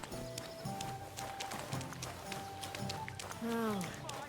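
Horse hooves clip-clopping in Kingdom Come: Deliverance 2, a medieval game, steady footfalls mixed under game music, a voice and a short whinny-like tone near the end.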